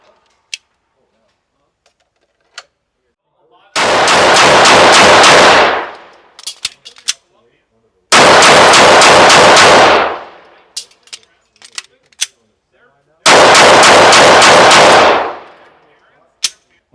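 A Walther PDP pistol fires in three loud, rapid bursts of shots during point shooting, each burst about two seconds long with quieter gaps between them that hold isolated clicks and clinks.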